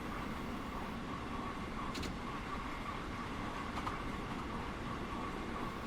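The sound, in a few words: LIRR M3 train running into station in a video game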